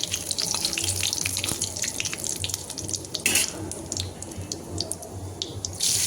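Whole cumin and two bay leaves sizzle in hot mustard oil in a kadai, a steady crackling hiss with scattered pops and spits close by, no voices.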